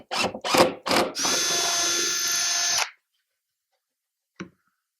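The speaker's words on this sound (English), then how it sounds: "all I've done there is pre-drill a couple of holes" A power drill pre-drills a couple of holes in wooden tongue-and-groove cabinetry, with a few short, sharp bursts before one steady whirring run of about two seconds. A brief tap follows after a pause.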